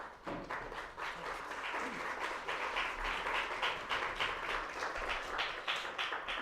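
A lecture audience at an electoral tribunal event applauds a human rights and public policy specialist, a sustained, even wash of many hands clapping at moderate distance throughout.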